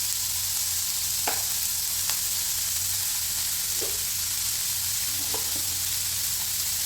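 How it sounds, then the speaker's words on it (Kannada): A teaspoon of mustard seeds and a quarter teaspoon of turmeric frying in hot oil for tomato curry, a steady close sizzle with a few sharp pops and ticks. "ಒಂದು ಟೀ ಸ್ಪೂನ್ ಅದಕ್ಕೆ ಸಾಸಿವೆ ಹಾಕ್ತಾಯಿದ್ದೀನಿ. 1/4 ಟೀ ಸ್ಪೂನ್ ಟರ್ಮರಿಕ್ ಹಾಕ್ತಾಯಿದ್ದೀನಿ."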